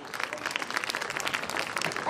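An audience at a school stage event claps to welcome a young student performer, brisk lively applause close and fairly loud, with a voice faintly mixed in beneath it.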